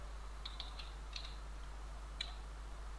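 Several faint, crisp clicks from a computer keyboard come in a short irregular burst, then a pause, then a single keystroke, as code is typed at a desk.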